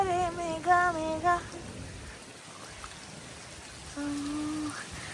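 Rain falls steadily on an evening in Oslo, Norway, a continuous soft hiss of drops with brief tonal, voice-like sounds near the start and again toward the end.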